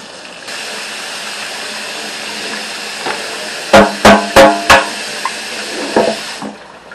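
Hot water runs steadily from a tap into a kitchen sink while a pan is washed, a continuous close splashing rush broken by several quick knocks and clatters of the pan midway through.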